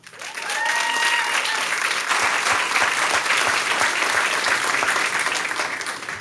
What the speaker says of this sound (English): Please join me in giving our new teammates one more round of applause.